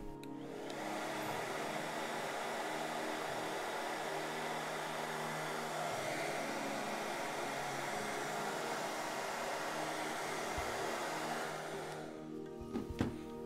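A heat gun blows a steady, even rush of hot air for about twelve seconds while shrinking a new wrap onto an 18650 lithium-ion cell, then cuts off and leaves a few small handling clicks.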